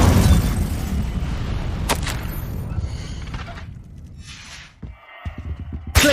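Incendio fire spell in a Harry Potter video game, a loud roaring, booming whoosh from the start that gradually fades over about five seconds, followed by quieter clicks and a sharp burst at the very end.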